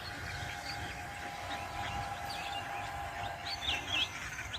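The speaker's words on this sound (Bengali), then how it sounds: "পাখির কলরব শোনা যাচ্ছে" Birds chirp and twitter on a misty early-winter morning in rural Bangladesh, scattered short calls rising over a steady low background hum with a faint continuous tone running beneath.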